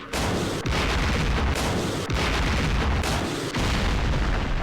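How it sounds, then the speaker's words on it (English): Artillery barrage in the wargame Campaign Series East Front at Kursk: dense, continuous rumbling booms and blasts rolling without pause, loud and close, with a few sharp breaks between salvos and no voices. "Ah, the artillery is not very effective."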